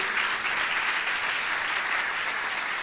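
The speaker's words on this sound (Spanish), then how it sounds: "Eso merece un aplauso, esa palabra increíble, extraordinaria." Church congregation applauding during a Spanish-language sermon, a steady dense wash of clapping throughout, fairly distant and even, with no voices over it.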